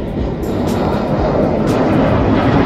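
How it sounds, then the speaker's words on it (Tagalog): Airplane passing overhead near the London O2 Arena, a broad, steady roar filling the air outdoors, loud and continuous with faint distant background sounds. "Oh yan, may aeroplano. Tingnan natin nasaan ang aeroplano."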